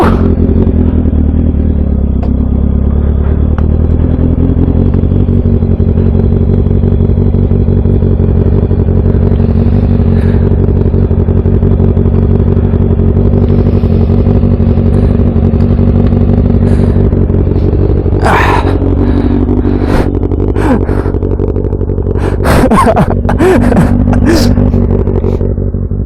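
A Yamaha MT-09 motorcycle with an Akrapovic full exhaust drones loudly and continuously while riding, its engine note rising and falling through gear changes, with some clattering near the end and no talking.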